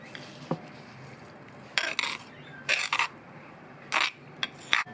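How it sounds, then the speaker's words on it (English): Pounded lemongrass, garlic and a chilli tipped into a pork belly marinade, giving a handful of sharp clinks and scrapes of a utensil against a bowl, spaced in short bursts, close and fairly loud with no talk. "Now I've pounded up that lemongrass and garlic and that 1 chilli. We'll throw that in."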